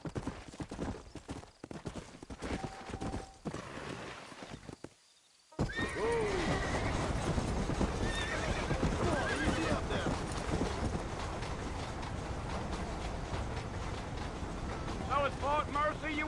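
Horse hooves clip-clop steadily on a dirt road in the video game Red Dead Redemption 2, with a whinny and a voice urging the horse on, under game music after a brief quiet gap.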